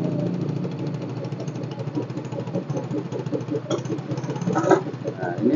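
A motorcycle engine idles with its fuse box pulled out, a steady mid-pitched rhythmic chugging and knocking that runs evenly throughout, close and moderately loud.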